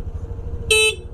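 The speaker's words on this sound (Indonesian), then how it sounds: "klakson." A single short beep from the horn of a new 2021 Honda Vario 125 CBS scooter, loud and close, lasting about a quarter second over a quiet idle hum.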